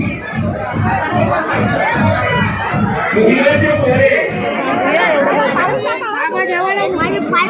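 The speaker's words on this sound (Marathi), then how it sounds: "जेवणासाठी गर्दी सगळ्यांची बघा" Dense babble of many wedding guests chattering over their meal, a steady loud crowd murmur with overlapping voices throughout and a faint rhythmic thumping in the low end during the first few seconds.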